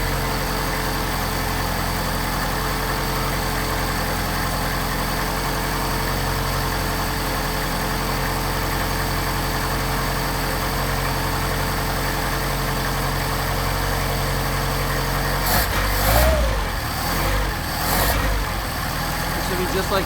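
A Mercedes 190SL engine fitted with Solex carburetors idles steadily while warming up, a continuous close rumble that holds even throughout, with a few knocks and handling noises near the end.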